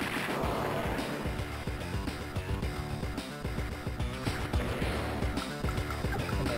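Tank cannon in the Mangsvance Wars strategy game, firing at a medium tank, heard as a dense run of booming blasts and pops over busy game music.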